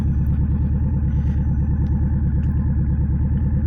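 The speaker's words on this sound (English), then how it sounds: "you can hear the engine going" A motorcycle engine runs steadily as the clutch is released, a loud, close, continuous pulsing drone with a low rhythmic throb and light mechanical clatter, no speech.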